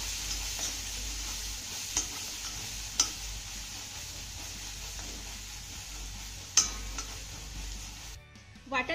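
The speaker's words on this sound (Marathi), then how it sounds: "आता हे घातलेलं वाटण आपल्याला फक्त अर्धा मिनिट यामध्ये चांगलं परतून घ्यायचंय" Ground spice paste sautéing in a pan over a medium gas flame for a Marathi dish, a steady soft sizzle with occasional clinks of a spoon against the pan, going quiet at the very end.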